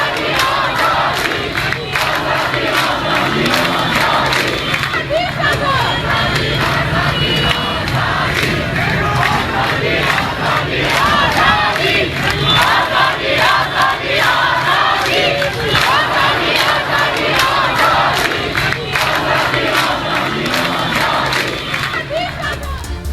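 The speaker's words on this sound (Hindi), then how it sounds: "ईरान में भी आजादी के नारे लग रहे हैं।" A large protest crowd in Iran chants freedom slogans against the hijab, a dense, loud, continuous roar of many voices shouting together in rhythmic waves, heard alone.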